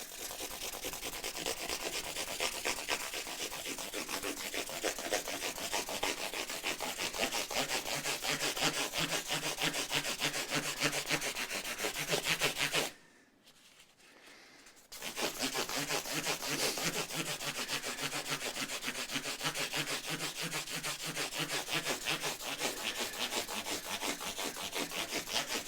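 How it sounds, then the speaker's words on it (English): Hand sanding on the wood of a Vintage V120 guitar, a steady rapid scratchy back-and-forth rasp heard up close and alone, pausing for about two seconds midway before resuming at the same pace. "So, slow, boring process of sanding out."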